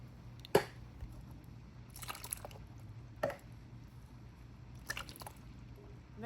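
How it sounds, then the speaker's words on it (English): Canned stewed tomatoes go into an Instant Pot in several wet, squishy plops and splats spread across a few seconds, quiet and close against low background hum. "I am adding 4 cans of stewed tomatoes."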